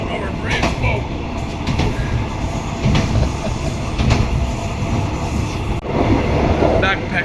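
A passenger train on the long overland run from Thailand to Malaysia rumbles steadily from inside a carriage, with continuous wheel and car noise, occasional clacks and rattles, and people talking over it.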